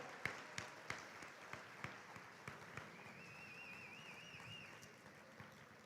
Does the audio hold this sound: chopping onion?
no